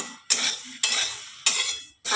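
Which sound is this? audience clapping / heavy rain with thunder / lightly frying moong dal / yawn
lightly frying moong dal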